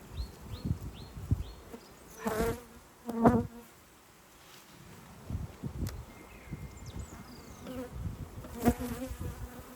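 Honey bees at a forest apiary hum in a steady, close drone. It is broken by sharper passes of individual bees flying by, and by soft rustling and handling sounds.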